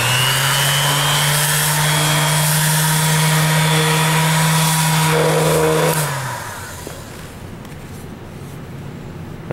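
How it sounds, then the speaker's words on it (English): A power sander works on a wooden piece, giving a steady, close mechanical whine for about six seconds before shutting off and leaving only faint room noise. "now after I sand it for a while, I'm tilting it so it sands down"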